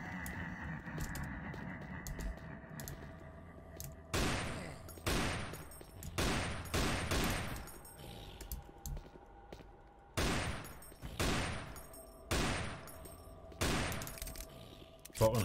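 Repeated bursts of gunfire in modded Doom 3 blast zombies with headshots, loud sharp shots spaced irregularly over a quieter ambient game hum with eerie tonal drones.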